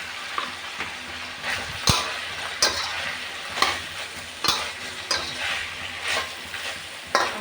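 Stir-frying carrots with pork in a pan, with repeated sharp scrapes and stirs of a utensil over a steady sizzle, close and fairly loud, no voices.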